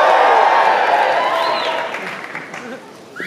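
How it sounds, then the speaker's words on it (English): Audience at a film premiere in London cheering and applauding, loud clapping and crowd noise at the start that gradually fades over a few seconds, with a voice speaking over it. "Come on, you cheer a bit louder now."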